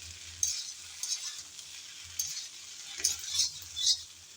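Potatoes and okra stir-fry in a pan with a soft sizzle, broken by bursts of spatula stirring and scraping in uneven strokes. Each burst lasts about half a second, and the sound is close and fairly quiet with no talking.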